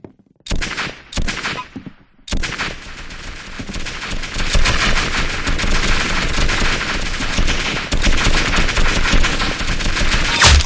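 Rapid automatic gunfire from the Roblox shooter game Arsenal, a short burst followed by a pause, then loud continuous bursts of shots that keep going to the end, with no talk over it.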